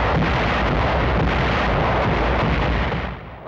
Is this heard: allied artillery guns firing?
yes